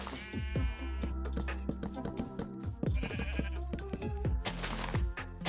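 Minecraft sheep bleat repeatedly and loudly at close range, several overlapping calls layered over steady game background sound, with no talking.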